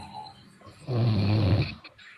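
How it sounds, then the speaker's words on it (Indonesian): A person snores once, close and loud, a rough rattling inhale lasting under a second, with quiet background before and after. "Molor itu mah ngorok"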